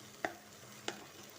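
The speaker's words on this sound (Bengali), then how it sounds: "জিরে গুঁড়ো বেশ খানিক্ষণ ধরে নেড়ে চেড়ে প্রচুর শাকটাকে রান্না করে নিতে হবে" Taro stem greens with cumin being stirred in a pan, two brief scraping strokes of a spoon about half a second apart over a faint steady background.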